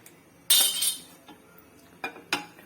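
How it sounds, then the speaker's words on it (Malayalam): A metal pan set down on a kitchen stove for roasting coconut in a Kerala home kitchen, giving one loud clanking contact followed by a couple of lighter knocks, close by and with no talk. "പാൻ അടുപ്പേ വെച്ചു."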